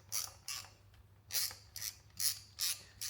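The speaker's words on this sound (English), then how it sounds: "this is a 10mm socket that we need to undo" A ratchet wrench turns a 10mm socket loose on a Suzuki ignition coil bolt, giving short, crisp clicking bursts in an uneven rhythm with brief pauses between strokes, close up and alone.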